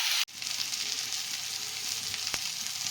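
Chicken pieces frying in hot oil in a pan for a Bengali potato chicken curry, a dense continuous close sizzle after a brief sharp knock at the start, with a couple of faint clicks of stirring.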